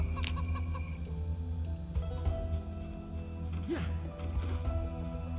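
Chickens and a rooster clucking and calling in the video game Project Zomboid, a busy layered flock chatter over a steady low ambient hum, with a louder crow-like call near the middle.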